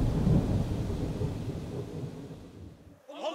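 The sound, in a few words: thunder and heavy rain, dramatized effect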